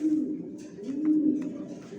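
Big-sized pigeons in a breeding loft on a house floor coo in low, continuous murmurs, with a few soft flutters and scratches nearby.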